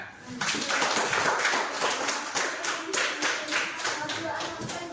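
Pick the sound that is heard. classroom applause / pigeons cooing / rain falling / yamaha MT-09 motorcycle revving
classroom applause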